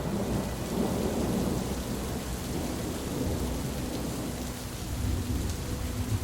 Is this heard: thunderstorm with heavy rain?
yes